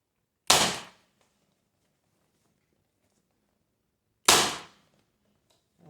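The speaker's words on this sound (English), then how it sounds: "Then I'm going to staple it right back in the same spot." A staple gun fires twice into fabric along a seam on a DIY end table made from a concrete tube, each shot a sharp, loud snap, the two spaced about four seconds apart with quiet between.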